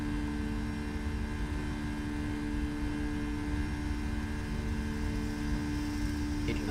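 Boeing 757 engines run at full takeoff power, a steady droning roar with a constant tonal hum, heard from inside the cockpit at low level.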